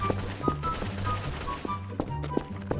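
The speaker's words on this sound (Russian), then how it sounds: "Я выстрелы слышу." Gunfire in Garry's Mod, a pizzeria hide-and-seek map, with several sharp shots spread unevenly over a steady droning background, fairly distant and moderate in level.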